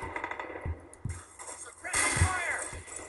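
Several sharp gunshot bangs from Call of Duty ring out at uneven intervals, mixed with shooting and game noise, loudest in the second half.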